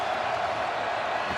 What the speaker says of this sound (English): As they get closer to the end zone, the crowd gets louder.